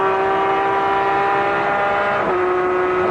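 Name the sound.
BMW straight six race car engine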